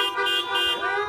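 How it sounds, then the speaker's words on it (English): Several car horns honk together at a Sunday church service, sustained overlapping toots that hold steady and fairly loud for the whole moment. "Honk your horn."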